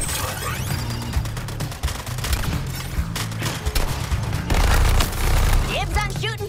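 Dense, rapid gunfire from Suicide Squad: Kill the Justice League, loud bursts and steady automatic shooting that run throughout, with in-game voices breaking in now and then.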